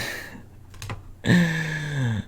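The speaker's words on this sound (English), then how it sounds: "Type my name in." A computer keyboard is typed on for a few brief, close clicks, followed by a sustained tonal sound that rises and falls.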